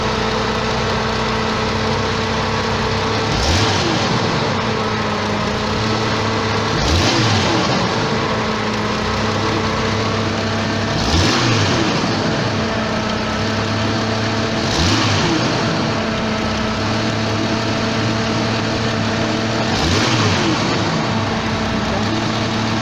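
The engine of a 1989 Jeep XJ runs steadily at idle to charge the battery, a loud and constant mid-pitched drone close by, with slight periodic swells about every four seconds and no voices.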